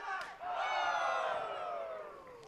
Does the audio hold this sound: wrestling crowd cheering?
yes